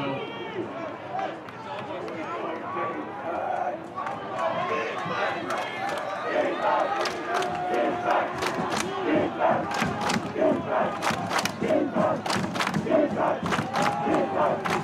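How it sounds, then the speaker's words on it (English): A crowd roars at a college football game between WPI and Worcester State, a broad swelling cheer that builds and stays loud under commentator speech. "You can hear the crowd in it."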